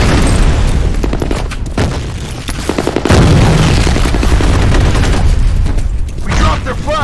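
A grenade blast and gunfire from the video game F.E.A.R. Combat, made up of loud repeated booms and rapid automatic shots in dense overlapping bursts, with game voice lines mixed in.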